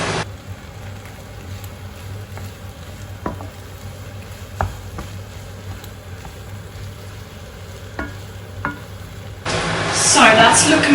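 Soy sprouts are tossed in a hot pan for pad thai, giving a soft steady sizzle with occasional clicks of a utensil, then a sudden louder hissing burst near the end.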